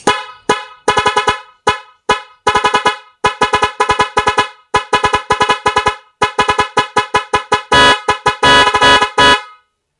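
A loud stock car horn honks again and again in quick, uneven beeps, ending in a longer continuous blast and a few final toots.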